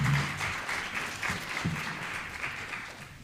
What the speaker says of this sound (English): giving another big round of applause to that incredible panel